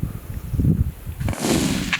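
Rifle shots fired at a springbok in sandy terrain outdoors, two sharp blasts about three quarters of a second apart followed by a rumbling tail, the second reverberating longer.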